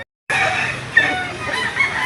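Chickens at a Saturday poultry market in Lipa City, Batangas, a rooster-like call and clucking heard close by over general market noise after a brief silent start, with one sharp squawk midway.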